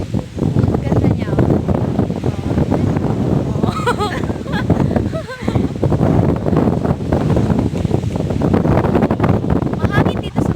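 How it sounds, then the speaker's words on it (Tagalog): Strong gusty wind at a seaside hotel in San Remigio during a low pressure storm, buffeting the microphone in loud continuous roars with a brief lull, while people talk over it. "Mahangin dito sa MAAYO, guys, kasi may bagyo."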